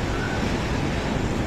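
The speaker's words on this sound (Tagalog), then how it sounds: "Nagangalit din ang mataas na alon sa baybayin." High storm waves crash on the shore in a steady, loud, broadband roar of surf, continuous and close with wind mixed in and no one speaking.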